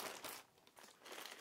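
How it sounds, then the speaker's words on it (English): Scissors slice through the plastic wrapper of a mail-order jersey package, giving close, crisp crinkling and crunching bursts that come in brief waves with no talking. "I have my trusty scissors here, cut the wrapper, ready to go to work."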